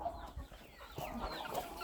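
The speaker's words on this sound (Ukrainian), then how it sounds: "Ну що це за кури такі вредні?" Hens clucking faintly in a farmyard while being shooed home, a few soft scattered calls over a quiet background.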